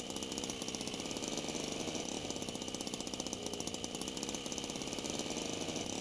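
Worn-out car engine from the Jalopy driving game running steadily with a rough, rattling mechanical chatter, constant and loud throughout with no talking.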